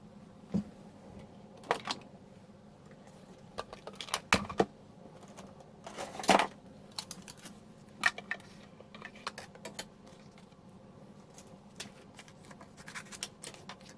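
Scissors snip out a small embossed paper label for a handmade card, giving sparse, crisp clicks and short cuts close by in an otherwise quiet room.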